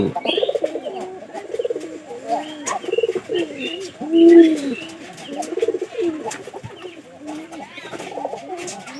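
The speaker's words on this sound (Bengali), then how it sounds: "দেন এরা ডাক কিরকম আপনাদের কিন্তু এরকম কবুতর সবারই পছন্দ" Domestic pigeons cooing close by, repeated soft throaty coos in a rolling rhythm with some chirps mixed in, carrying on steadily throughout.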